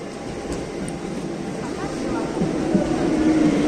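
An emptyish train runs steadily on its route toward Bardhaman, giving a continuous rumbling roar from inside the carriage that grows slightly louder toward the end, with no talk over it.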